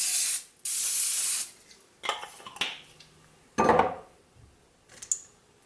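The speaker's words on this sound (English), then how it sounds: "spray your cookie cutters with Pam" Two long hissing bursts from a Pam cooking spray can onto cookie cutters, followed by clinks and taps of metal utensils being handled nearby.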